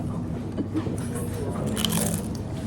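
Crunchy bites into crispy deep-fried local food at a meal in Phu Quoc, Vietnam, close and steady over a dense background of voices and clatter.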